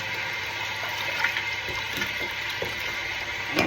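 A kitchen tap runs in a continuous splashing stream while fish is cleaned under it, with occasional knocks and small splashes over the steady flow, close and moderately loud.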